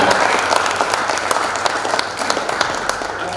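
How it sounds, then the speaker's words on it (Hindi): An audience at a Hindi poetry recital breaks into steady, dense applause lasting a few seconds, loud and close, with a crowd of many hands clapping together. "अखिलेश द्विवेदी जी, वो सो जाएंगे नहीं तो उनके लिए भी ताली बजा दीजिए"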